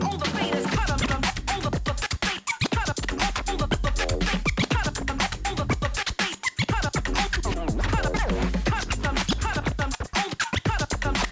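DJ scratching in a battle round, fast cuts on the faders chopping a sample over a steady drum-heavy beat; dense, rhythmic, loud and continuous throughout.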